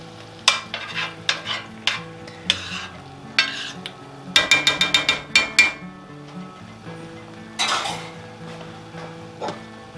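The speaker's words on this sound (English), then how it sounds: "I'm just going to stir this all together" Garlic and chicken being stirred in a pan, giving a run of sharp utensil knocks and scrapes against the metal with a loud cluster in the middle, over a soft sizzle.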